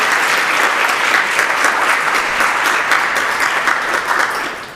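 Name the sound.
audience applause at parish meeting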